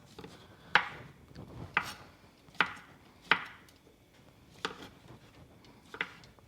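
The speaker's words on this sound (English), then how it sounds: "So we're just going to thickly slice." A knife thickly slicing mushrooms on a cutting board, with about eight crisp, evenly spaced chops close by.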